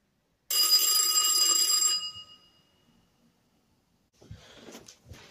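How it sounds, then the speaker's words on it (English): A doorbell rings for a courier parcel delivery: one bright, metallic ringing tone sustained for about a second and a half, loud and near, then fading into quiet before faint handling noises follow. "So I'm just waiting for this doorbell to ring."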